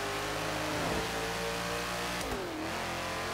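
A stock Hoonigan rear-wheel-drive car with a 4-speed gearbox accelerates along a runway in a driving video game, its engine droning steadily and rising in pitch through the gears, with a shift dip partway through.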